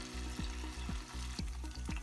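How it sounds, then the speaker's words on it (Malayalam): Chicken 65 pieces frying in well-heated oil in a pan, giving a continuous close sizzle with repeated bursts and scraping stirs as pieces are added one by one; no talking. "എണ്ണ നന്നായി ചൂടായതിനു ശേഷം ചിക്കൻ കഷ്ണങ്ങൾ ഓരോന്നായി ഇട്ടുകൊടുക്കുക"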